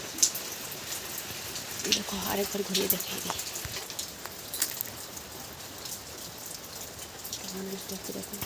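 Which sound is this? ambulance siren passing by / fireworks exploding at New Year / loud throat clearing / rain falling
rain falling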